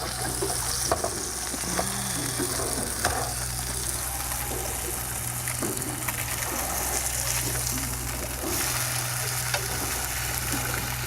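Food fries in a fry pan, a constant dense sizzle with occasional scrapes and taps close by.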